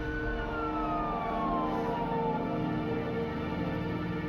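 An ambulance siren wails steadily as the vehicle pulls away from an accident scene, a loud sustained tone with a slowly falling pitch sweep over constant traffic-like rumble.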